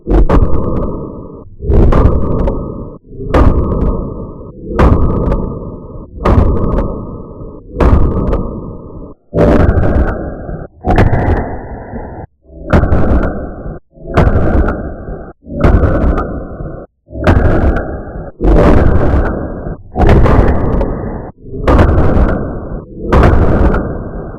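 About seventeen loud, close pistol shots from a Walther CCP M2 in .380, fired at a steady pace roughly every one to two seconds. Each sharp report rings out briefly before the next, with no talking.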